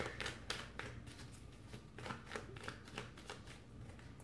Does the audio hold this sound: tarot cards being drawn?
yes